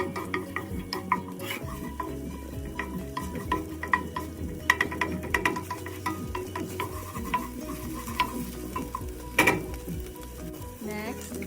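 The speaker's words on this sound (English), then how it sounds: "In the same pan, put the garlic." Garlic sizzling and frying in a pan used just before for frying pork, with steady crackle under frequent stirring and scraping of a utensil against the pan, close and fairly loud throughout.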